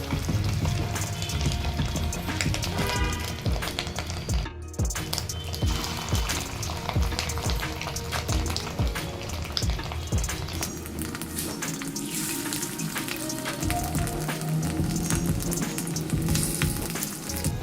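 Fish egg fritters dropped into hot mustard oil in a pan, a dense steady sizzle and crackle of frying that continues evenly throughout with no talking.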